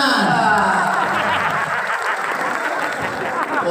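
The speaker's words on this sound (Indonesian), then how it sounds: "Tepuk tangan dong." Loud crowd applause at a millennial gathering with a government minister, mixed with cheering, laughter and overlapping voices over the clapping.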